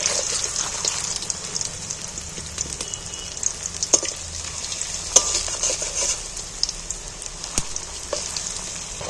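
Pieces of food frying in hot oil on a home stove as they are flipped, a steady loud sizzle with scattered sharp crackles and scraping stirring sounds, no voices.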